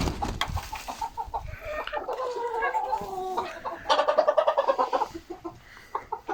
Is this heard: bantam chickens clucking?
yes